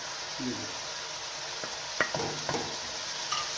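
Soft, steady frying sizzle of ginger paste in a pan, with a few light scrapes and clinks of a utensil stirring, and a faint murmur early on.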